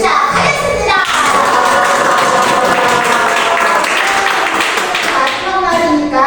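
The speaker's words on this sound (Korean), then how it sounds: "큰 박수와 함성으로" A lively crowd of children in a class claps and shouts together, a loud, steady burst of applause mixed with excited voices throughout.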